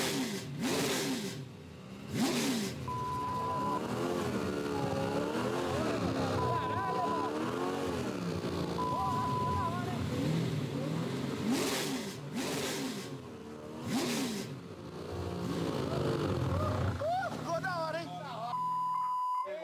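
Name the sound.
lowrider car engine revving with new exhaust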